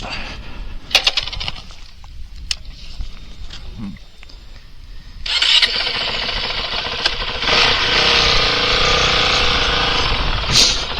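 A Honda CRF450RL dirt bike engine runs near the rider, quiet and uneven at first, then rising to a loud sustained drone as the bike pulls away on the street.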